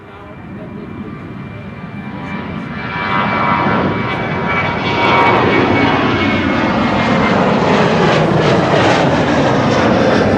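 An airliner takes off from runway 24, the Kaagbaan, at Amsterdam Schiphol on a sunny day, its broad engine roar swelling steadily and staying loud and close throughout.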